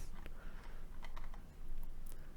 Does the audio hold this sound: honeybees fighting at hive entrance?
no